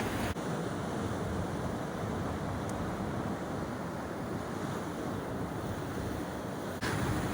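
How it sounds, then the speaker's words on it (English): A very high sea breaking against low earth cliffs near Spurn Point, a loud continuous roar of surf mixed with heavy wind buffeting the microphone, with no talk. "there we have a very high sea breaking against the low earth cliffs"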